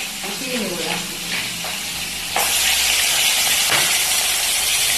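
Pieces of pond fish go into hot oil, and halfway through a loud, sustained hissing sizzle bursts in and continues; a voice talks over the quieter opening.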